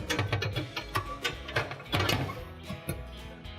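Spade connectors pushed onto the terminals of a Viking stove's bake element, heard as a close run of scraping, clicking metal sounds with uneven rhythm and no speech.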